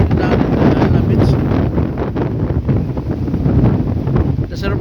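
Strong wind off a rough sea at Ela Beach, Port Moresby, roars continuously across the microphone, a dense, rumbling buffeting that stays loud throughout with no pauses.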